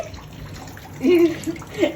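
Water runs from a tap at a modest, steady flow, swelling into a brief gurgling splash midway, close by and indoors.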